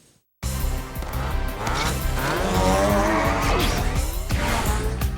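Crash Nitro Kart video game kart race: buzzing kart engines rev continuously with tire squeals and skids over the engine roar, loud and steady after a brief silent start.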